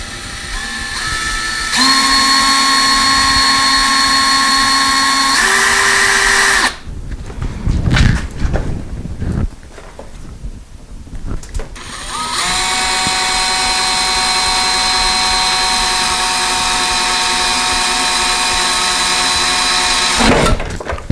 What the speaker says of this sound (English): let's drill those holes through the door itself